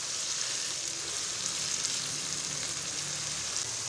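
Lahori kali mirch chickpea curry (cholay) being mixed and fried in a pan with salt, giving a steady, even sizzle with faint stirring scrapes underneath, close and moderately loud, no voices.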